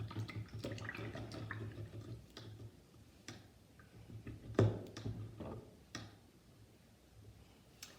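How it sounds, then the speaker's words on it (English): Paintbrush rinsed in a water cup after tulip painting on canvas, faint ticking taps and light splashes as the brush knocks against the container, quiet and close, no talk. "Now I'm going to go ahead and rinse out my brush"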